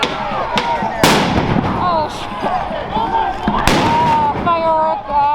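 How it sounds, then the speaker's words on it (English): Fireworks exploding during a street protest, two sharp loud bangs over a busy crowd with shouting voices and whistling sounds in the background. "Fireworks are still being thrown inside the courtyard where the riot cops are."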